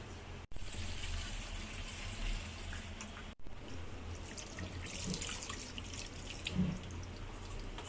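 Water runs and splashes steadily into a pot of marinated mutton at close range, with a few clinks and drips, no talking.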